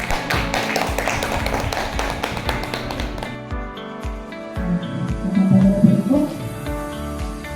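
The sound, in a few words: audience applause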